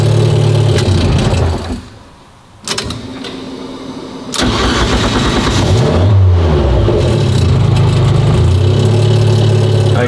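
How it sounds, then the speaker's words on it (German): A car engine with its vacuum being checked at about 0.6 bar is switched off, then cranks and catches after a short hush and settles into a steady, loud idle close by. "geht auf jeden Fall mit Gas geben einmal automatisch an"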